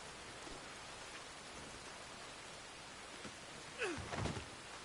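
Steady, soft rain hisses continuously in Red Dead Redemption 2 on PS4, with a few brief, faint knocks and rustles near the end.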